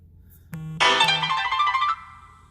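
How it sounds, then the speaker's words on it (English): A phone notification chimes while someone is driving home, a short melodic electronic tone that swells and rings out for about a second over a low hum of road noise. "That was a notification on my phone."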